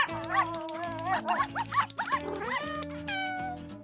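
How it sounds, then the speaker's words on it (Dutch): Unhappy cartoon puppies barking and yipping in quick excited bursts, mixed with cat meows and bright background music, fairly close. "Oh, deze puppy's zijn niet erg blij."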